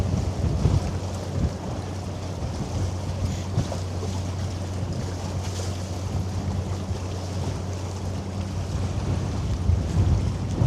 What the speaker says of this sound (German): Der Wind ist so stark, dass ich ziemlich gut fühlen kann, aus welcher Richtung er kommt.